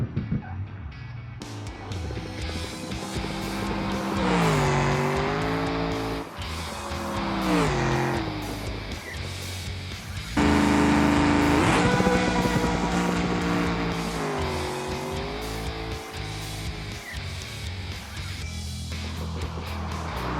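A Pro Charged Bruckell Moonhawk drag car in BeamNG screams through a drag run, its engine howling up through the gears with sharp shift dips and tire squeal. The sound swells loud and close, then fades away.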